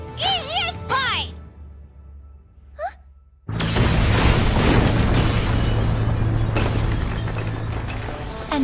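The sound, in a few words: explosion in anime, Seven Deadly Sins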